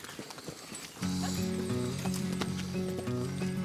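Horses on an Alpine pasture in Switzerland, with a soft patter at first, then a loud, steady blend of harmonic tones and clatter that fits restless animals close by.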